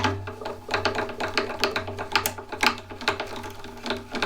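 A tuning peg on a classical guitar being unwound from the 6th string, giving dense rapid clicking and ratcheting mechanical ticks in uneven bursts over a low steady hum, close and fairly quiet.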